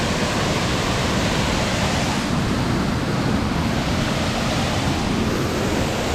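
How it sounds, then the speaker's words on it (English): The third waterfall at Morialta in Adelaide roars as a continuous, loud, broadband rush of falling water, steady and unbroken throughout with no voices. "It is the third waterfall of Morialta."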